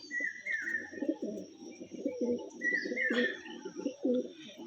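Female pigeon in a coop, close repeated low throaty coos in short rhythmic phrases, with a few brighter chirps and light fluttering in between.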